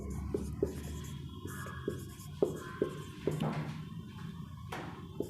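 Pen writing on paper while a class 9 maths solution is worked out, with short scratchy strokes and taps close by in an uneven rhythm, quiet and with no talking.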